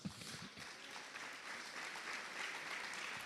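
A church congregation at a Spanish-language youth conference applauds the Lord, steady broadband clapping filling the hall for a few seconds with faint voices beneath.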